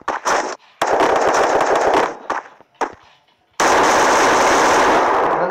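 Rapid automatic gunfire in a mobile shooter video game, loud sustained bursts with short gaps between them, ending in one long continuous stream of shots.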